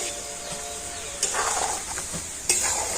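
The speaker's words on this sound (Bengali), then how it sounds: "গুড়ের সাথে আমগুলোকে খুব ভালো করে যাবে নাড়াচাড়া করে নেব" Raw mango pieces stirred with jaggery in a pan, soft scraping and sticky sizzling with two sharp utensil knocks against the pan, close and moderately quiet.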